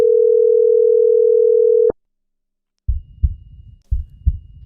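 Telephone call to a local coin shop: a loud steady dial tone holds for about two seconds, cuts off, then after a short silence two low pulsing ring bursts sound through the line.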